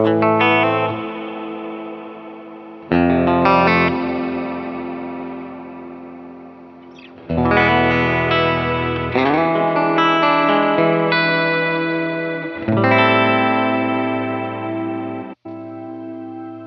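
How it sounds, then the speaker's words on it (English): Electric guitar through a Wampler Catacombs delay/reverb pedal set to hall reverb: loud, ringing strummed chords struck roughly every few seconds, each washing out in a long, spacious decay, with no talking. "All right, back to a hall reverb."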